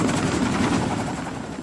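A military helicopter from the Army National Guard flies over the San Francisco Bay Area after the 1989 Loma Prieta earthquake, its steady rotor chop and engine roar loud and continuous throughout.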